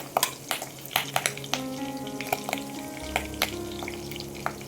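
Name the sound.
garlic and curry leaves frying in oil, stirred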